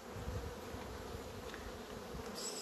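Honeybees buzzing inside a hive that holds drones, a steady close hum throughout with no voices.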